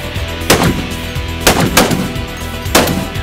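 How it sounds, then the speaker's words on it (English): A Barrett .50 caliber rifle fires three heavy, sharp shots, each a loud booming crack spaced roughly a second apart, with short reverberant tails. "All you have to protect yourself is a Barrett 50 cal and a hand grenade."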